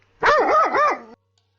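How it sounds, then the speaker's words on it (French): A guard dog sound effect from the Arkham Horror card game app: a single loud, close bark with a wavering, howl-like pitch, lasting about a second and heard alone without talk. "Le chien de garde."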